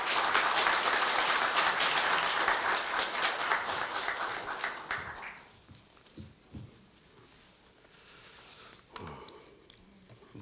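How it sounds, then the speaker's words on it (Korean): Audience applause at a university staff retirement ceremony as a retiring department head is welcomed, a full burst of clapping for about five seconds that fades into quiet room noise with scattered small sounds. "김영민 부장님을 큰 박수로 맞이하여 주십시오."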